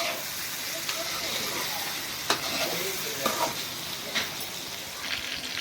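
Tender eggplant sizzles steadily in a hot pan for a sesame-chili dish, with a constant frying hiss broken by a few sharp stirring scrapes; someone speaks over the cooking.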